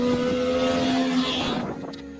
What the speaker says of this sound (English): which made the Saab Sonnet sound more like a bike than it did a car